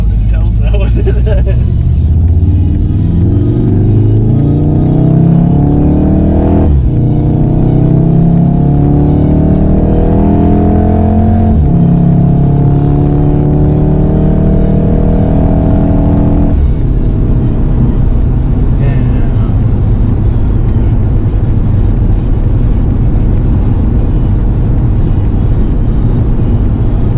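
A stock 300-horsepower MK7.5 Volkswagen Golf R engine accelerates hard through several gears, each rising pitch sweep broken by a sharp shift, loud and close from inside the car with people talking over it.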